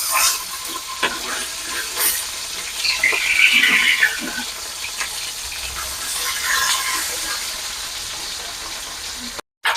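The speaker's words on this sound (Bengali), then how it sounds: "এবার আমি মাছগুলো এক এক করে তেলের উপরে দিয়ে দেবো" Fish pieces frying in hot mustard oil in a kadai, a steady loud sizzle and crackle running throughout, swelling briefly in the middle, with no talk over it.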